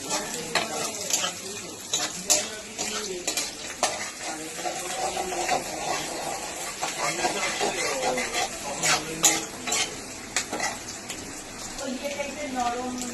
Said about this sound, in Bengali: পেঁয়াজটা একটু ভাজা মানে ভাজা ভাজা হয়ে উঠেছে